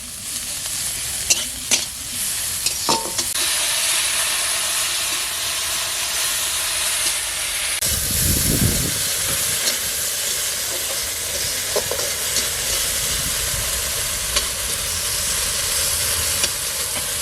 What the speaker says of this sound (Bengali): আদা রসুন একটু সামান্য অল্প করে দিচ্ছি, বড়ি দেবো বলে একটু ভেজে নিচ্ছি